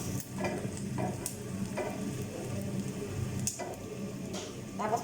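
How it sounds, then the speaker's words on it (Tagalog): Onion and garlic sautéing in a pan for ginisang kalabasa, a steady sizzling hiss with occasional stirring scrapes and clicks running throughout, fairly close and continuous, with no one talking. "Tapos papulahin natin sibuyas na bawang."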